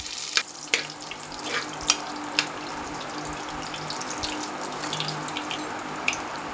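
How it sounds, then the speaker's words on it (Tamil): Cloves, cardamom, fennel, bay leaves and other whole spices frying in hot oil for coconut milk rice, giving a steady close sizzle with scattered small pops and crackles throughout, no talk. "கிராம்பு, ஏலக்காய், கல்பாசி, சோம்பு, 2 பிரியாணி இலை சேர்த்து"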